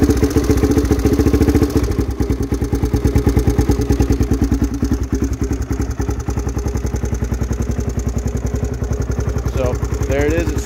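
An XR dirt bike engine idles right after starting, a loud, steady rapid thumping close to the microphone that keeps a constant rhythm throughout, with faint talk in the background near the end.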